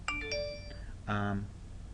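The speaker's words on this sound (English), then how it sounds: "with the chiming of the bells on my cell phone" A cell phone plays a short chime of bell tones, a few bright notes followed by a richer ringing chord that fades, fairly quiet.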